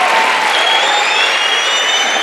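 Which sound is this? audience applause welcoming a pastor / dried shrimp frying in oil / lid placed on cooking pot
audience applause welcoming a pastor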